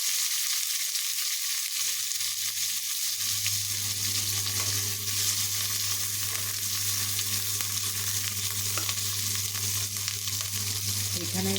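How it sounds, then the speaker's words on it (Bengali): Onions frying in a pan, a steady broadband sizzle that swells in around three seconds and then holds loud and close to the end, with a low constant hum beneath it. "এখানে পেঁয়াজ ভাজা হোক।"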